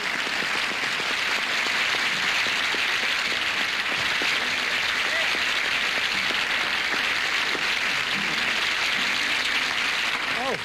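A studio audience applauds steadily as a country singer takes the stage on a television show, with dense clapping and a few cheers sustained throughout at close range.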